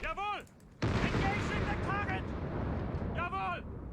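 Cannon shots from a PaK 43 anti-tank gun in the Company of Heroes 3 game ring out as heavy, booming blasts with sharp, high whistling tones. A voice talks over part of the sequence.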